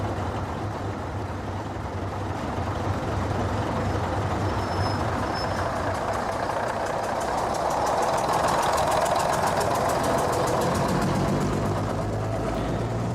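Steady diesel multiple unit engine drone heard from inside a moving train on a longer-distance line beyond Hexham, a continuous rumbling roar with a faint rise partway through and no voices.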